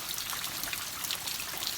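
Rain falls outside a home during a sudden hail storm, a soft, steady patter of scattered drops with a few sharper taps, faint and continuous, no voices.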